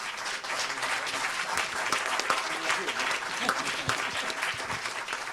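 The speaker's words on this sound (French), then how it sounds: "On peut les applaudir" Sustained applause from an audience at an annual association gathering, a dense steady patter of many hands clapping for over five seconds, fairly close, with faint voices mixed in.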